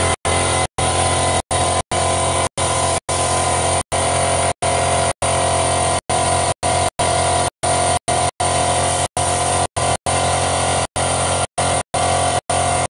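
A machine runs continuously to build pressure in a shed, a steady loud broadband drone cut by frequent brief dropouts, with no talk over it.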